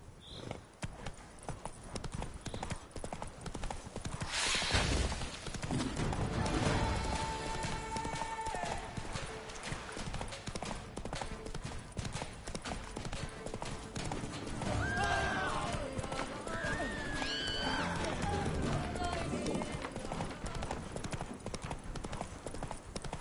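A horse gallops with rapid rhythmic hoofbeats throughout a stretch of The Witcher 3: Wild Hunt, with a loud whinny partway through. A rider's voice and game music sit beneath the steady clip-clop.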